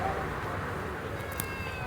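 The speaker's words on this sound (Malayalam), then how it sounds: "ഒരു കുഞ്ഞി പൂച്ച," A tiny kitten meows in a short, faint burst over steady background noise near the end, briefly and at some distance.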